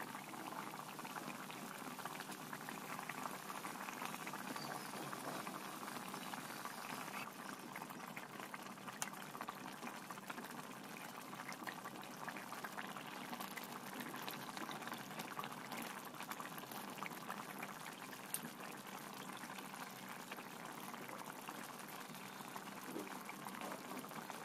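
Water bubbling at a steady rolling boil in a cooking pot, a continuous dense hiss and burble held at an even level throughout, with no voices.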